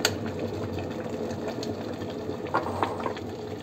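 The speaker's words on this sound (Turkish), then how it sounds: "Çok az bir şey su ısıtacağım" Water bubbling and rumbling at a steady boil, a continuous churning hiss with a few louder pops, close by and without talk.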